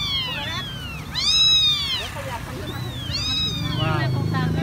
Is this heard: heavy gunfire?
no